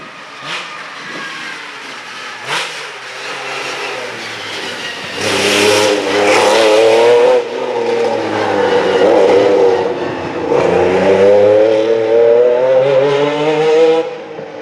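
An MG Metro 6R4 rally car, a compact Group B machine with a Rover-derived V8, revs hard in loud rising and falling surges, its engine note climbing and dropping repeatedly with a sharp rasp, no talk over it.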